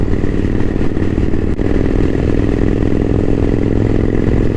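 A custom chopper motorcycle engine runs close and loud, a continuous throbbing rumble with a steady, slightly uneven pulse and no voices.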